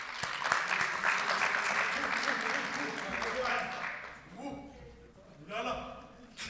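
A crowd of colleagues at a seminar claps steadily for several seconds, then the applause fades and scattered noise and voices follow.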